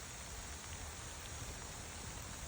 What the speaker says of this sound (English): I got my hose spraying in this section.